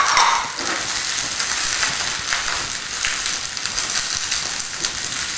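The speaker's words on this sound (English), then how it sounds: "add the broccoli and a couple of nice big fat sliced up cremini mushrooms" Broccoli and thick sliced cremini mushrooms sizzle and crackle steadily in hot oil in a pan, a dense, even frying hiss that runs the whole time with occasional stirring.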